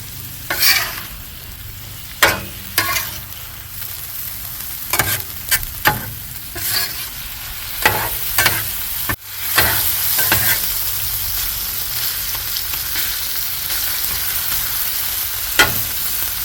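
Barbecue sloppy joe meat sizzles steadily on a Hasty Bake Legacy griddle, a continuous close frying hiss broken by repeated sharp scraping and stirring strokes of a spatula, with no talking.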